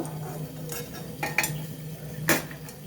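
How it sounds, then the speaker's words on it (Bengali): Fried okra is lifted out of hot oil with a metal utensil, bringing light scraping clinks against the pan over a low background sizzle, close and fairly quiet. "এইভাবে আমি পরপর সমস্ত সব কিছু ছেঁকে তুলে নেব"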